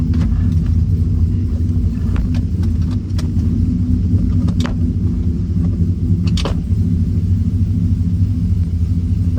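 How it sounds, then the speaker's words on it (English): A Chevy pickup truck with a junkyard-parts hydroboost brake conversion drives along, its loud, steady engine and road rumble filling the cab, with a few faint clicks and knocks. "Let's go for a drive."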